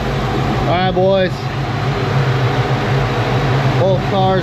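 Two cars idle side by side to warm up on a snowy day, a steady low engine rumble and fan-like hum running throughout while people talk briefly over it.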